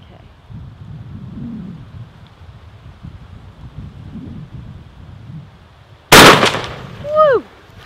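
A single close, loud shotgun blast cracks out after a quiet outdoor stretch with soft rumbling wind, followed by a voice briefly exclaiming.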